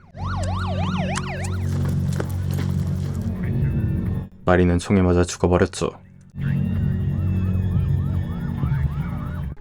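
A wailing police siren rises and falls over a moving car, briefly cut by someone speaking, then the siren resumes with engine noise beneath.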